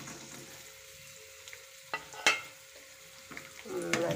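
Cashews and raisins frying in ghee in a pan, with a low steady sizzle and a few sharp stirring clinks and scrapes near the middle and end.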